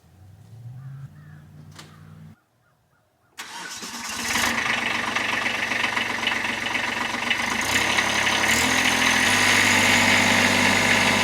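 A tractor engine starts up after a brief silence and settles into a loud, steady running rumble with a mechanical rattle, close by and continuous.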